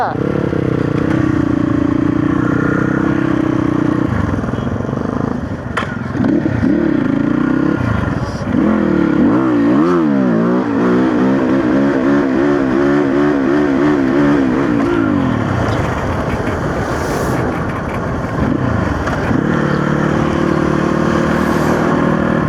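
Motorcycle ridden along a steep offroad trail near Hetauda, engine loud and close, rising and falling as gears shift and revs climb and drop through turns, with a heavy low rumble throughout.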